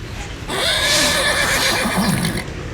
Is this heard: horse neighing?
yes